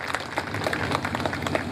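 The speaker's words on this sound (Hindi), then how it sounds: "हमारे आदरणीय राजेंद्र राठौड़ साहब के लिए जोरदार तालियों की गड़गड़ाहट के साथ" Audience applause at a statue unveiling ceremony honouring a martyr, a steady wash of many hands clapping throughout, moderately loud and continuous with no clear break.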